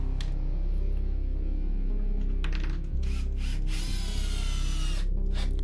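A Bosch 12V brushless Flexiclick drill runs on its high-speed gear, a loud continuous motor whine with brief surges as it drives, close and alone without talk.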